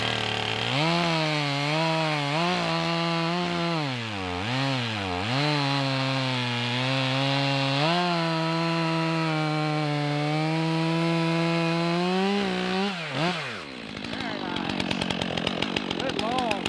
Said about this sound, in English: Chop, chop. I'll cut a firewood chunk off.